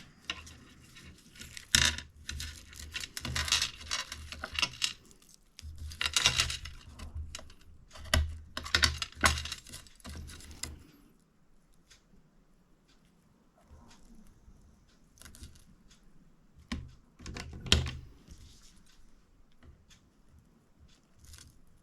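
Scissors snipping satin ribbon to trim it for a handmade lace-trimmed bookmark, a cluster of close, crisp snips and clicks in the first half, then quieter scattered handling noises with one more sharp snip near the end.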